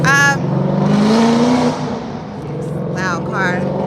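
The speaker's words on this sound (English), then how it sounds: "Loud car." A loud car roars past close by, its engine revving with a rising whine, while voices talk over it before and after.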